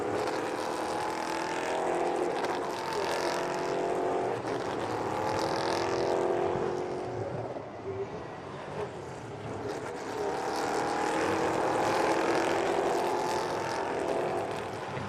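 EuroNASCAR stock cars at speed during a qualifying session produce a continuous engine roar that swells and fades as cars pass, with layered tones from several cars at once and no talk heard.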